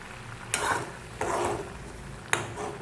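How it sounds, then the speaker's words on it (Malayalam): Dried prawn chili curry bubbling in a pan on the stove, a soft steady simmer broken by three sharp scraping stirs of a spoon against the pan, no talking. "അപ്പോൾ നന്നായിട്ട് തിളച്ച് വന്നിട്ടുണ്ട് കേട്ടോ"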